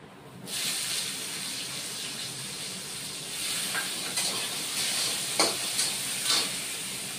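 Chopped tomato hits hot oil with a bay leaf in a pan for a vegetarian dahi bhindi, setting off a loud, steady sizzle that keeps going, with a few sharper spits and stirring scrapes near the end.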